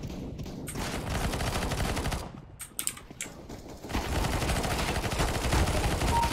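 Rapid bursts of shotgun and automatic gunfire from a CS:GO match crackle loudly for several seconds, dip briefly into scattered shots, then resume as dense, continuous firing.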